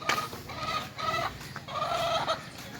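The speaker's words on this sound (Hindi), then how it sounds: "ये देख मुर्गी ने बांग दे दी।" Chickens cluck and call in repeated bursts close by, with a short pause between groups of calls, heard outdoors at a home. No voices are heard over them.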